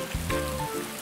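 Steady rain falls in the game Atelier Ryza 2, a soft continuous hiss beneath sustained background music tones.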